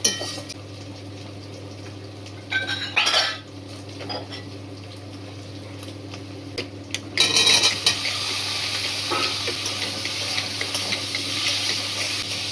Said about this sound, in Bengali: শুধু 5 ফোড়ন দিচ্ছি, একটুখানি আদা রসুনের পেস্ট দিচ্ছি